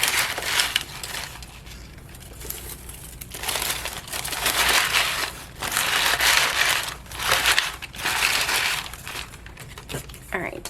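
Crinkle-cut paper filler being crinkled and stuffed into a teacher gift, a rustling, crackling texture in several loud bursts with short pauses between, close to the microphone and without talk over it.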